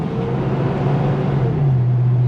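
A Ford Fox Body Mustang GT 5.0 V8 with a stuck high idle drones steadily and loud up close, its hum stepping slightly lower near the end, with no talking over it.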